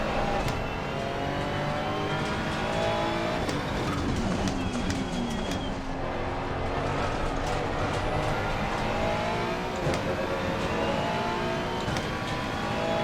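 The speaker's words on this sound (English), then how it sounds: "hopefully accelerate out quick, get some nice shifts going. And downshift a second here so I can power out." A racing car engine in a sim racing game drones and revs continuously, climbing and dropping in pitch through repeated gear shifts and downshifts, loud and close throughout.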